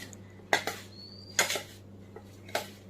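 Sugar being stirred into karanji filling in a bowl, with a spoon giving a few faint, quiet clinks and light scrapes spaced about a second apart against a hushed background.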